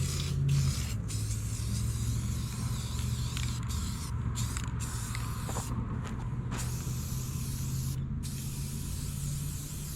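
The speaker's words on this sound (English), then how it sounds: "I'm gonna give this thing a coat of gray paint, just some spray paint I had laying around" An aerosol can sprays gray paint in a long, steady hiss, close up, onto a homemade bonsai sculpture, with a few brief pauses where the spraying stops and restarts.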